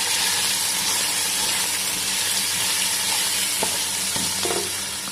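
Mutton fries in a pan with ginger garlic paste and spices for a kulfa saag spinach dish, giving a constant close sizzle with stirring scrapes and light clinks near the end.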